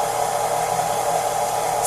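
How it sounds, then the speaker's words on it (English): An electric mixer running on low speed while making candy corn cupcake batter gives a steady, even whirring hum, close and constant throughout with no talking. "So the mixer's on low speed"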